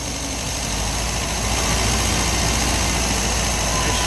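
1974.5 MG MGB engine with no choke linkage, running roughly after its first start in 30 years, a loud, close, continuous idle rumble that holds steady throughout.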